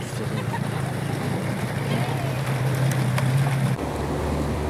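The boat Wahyu Rezeki chugs along a shallow river, a steady low engine hum under constant wind and water rush, with the engine tone dropping away near the end.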